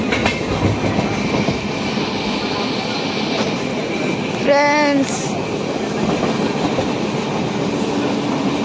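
Steady rumble and clatter of a moving train heard from inside a carriage, continuous and fairly loud, with a brief tonal horn-like whine in the middle and a voice speaking briefly over the noise.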